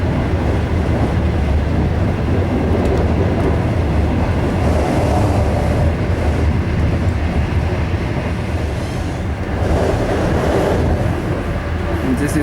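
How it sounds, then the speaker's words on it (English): High-speed train sets at a repair depot give off a dense, continuous rumble and hiss, steady and loud throughout with faint rhythmic rattling. "This is a repair center for high-speed trains. Oh, there's another train set."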